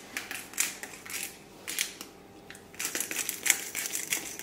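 Black pepper is ground into barbecue sauce as a quiet run of crunchy, crackly grinding bursts with short pauses, heard up close.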